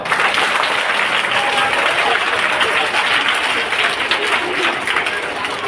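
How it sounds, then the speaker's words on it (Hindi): Loud, sustained applause fills a community hall at a Kumarika poojan gathering of a Vaishya samaj in Solapur, many hands clapping densely and evenly without pause. "एक बार जोरदार तालियां बजाओ।"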